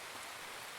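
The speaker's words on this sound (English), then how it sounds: "The rain is so loud." Loud rain falls in a dense, steady hiss of drops hitting surfaces, with no pauses.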